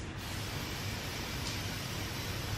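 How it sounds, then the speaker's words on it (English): A continuous spray of hold spray hisses close to the microphone, an even, unbroken burst lasting a couple of seconds. "I'm just gonna spray it with some hold spray."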